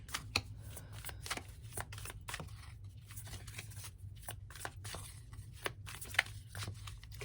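Tarot cards are shuffled up close in a quiet room, giving soft, rapid riffling and flicking bursts with brief pauses between them, alone with no talk.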